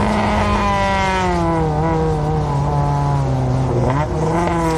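NASCAR Division III enduro race cars roar around the track in a loud, continuous blend of revving engines whose pitch rises and falls as the pack runs side by side, with no talk audible.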